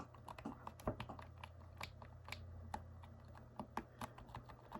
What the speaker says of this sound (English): the D-pad's still like one piece, but it's a lot more clicky than the PlayStation 4 remote